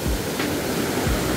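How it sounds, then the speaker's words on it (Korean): Water rushes down rocks in a small waterfall into a deep pool at Toegol Valley in Paju, making a close, steady, broadband roar with no breaks. "아, 거의 폭포네요, 여기."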